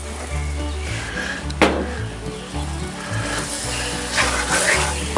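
Butter sizzling with browning flour in a Dutch oven while making roux for smothered fried rabbit gravy, a steady crackling hiss with scraping and stirring sounds and one sharp clink, close and fairly loud.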